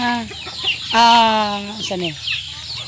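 Chickens cluck loudly and close by, a few short calls followed by a longer drawn-out squawk, with no one talking.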